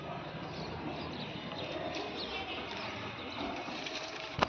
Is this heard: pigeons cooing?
yes